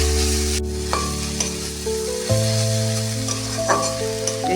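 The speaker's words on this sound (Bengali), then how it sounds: "ঘিয়ের ওপর কুমড়োটা একটু ভেজে নিতে হবে" Pumpkin fries in ghee in a pan with a steady close sizzle, while a spoon or spatula stirs and scrapes now and then, under a constant tonal hum.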